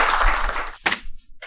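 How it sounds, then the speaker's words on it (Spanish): Applause from an audience at a cultural talk welcoming a speaker, a broad rush of clapping that fades out after about a second, followed by a few scattered, trailing claps. "les pido un fuerte aplauso para él"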